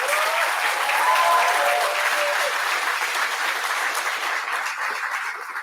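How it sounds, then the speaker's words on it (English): A room of young people at a closing session gives themselves a big round of applause, loud and steady clapping that holds for several seconds and gradually eases. "So give yourselves a big round of applause."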